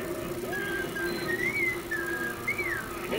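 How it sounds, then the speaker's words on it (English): A person whistles a wandering, sliding tune, the notes rising and falling against a steady low hum. "I think somebody's just whistling it."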